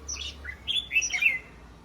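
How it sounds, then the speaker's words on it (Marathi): Sparrows chirp in quick, high twittering bursts, close and clear over a quiet afternoon background. "चिमण्यांचा चिवचिवाट फक्त"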